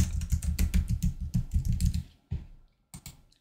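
Rapid clattering keystrokes on a computer keyboard come in close bursts, then slow to a few scattered taps with short pauses between them.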